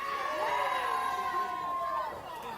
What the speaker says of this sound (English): See the cheers and jubilation here of the crowd